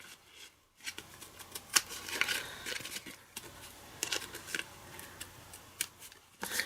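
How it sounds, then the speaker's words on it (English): Scissors snip through cardstock while making a scalloped gift box, a series of short, crisp cuts and clicks close by with papery handling sounds between them, no voices. "you can use your scissors to just release it"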